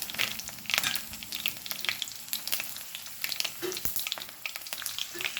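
Mustard seeds and crushed garlic sizzle in hot oil, a quiet, close crackle with rapid irregular pops and spits over a soft continuous fry.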